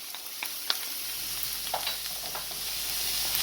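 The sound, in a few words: spring onion sizzling as it is stir-fried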